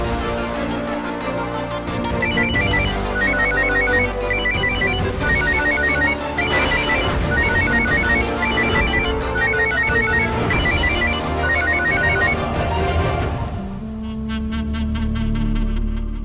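A phone rings with a repeating melodic ringtone in a steady, loud loop, no voices, and the tone shifts to a different patterned ring near the end.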